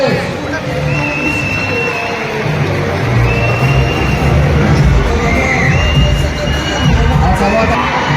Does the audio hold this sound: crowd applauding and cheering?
yes